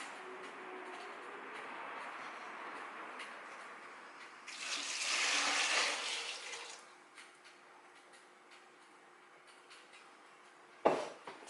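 Water is poured into a container while making homemade kiwi wine, a soft gushing splash swelling for about two seconds mid-clip, with quieter trickling around it and a sharp knock near the end.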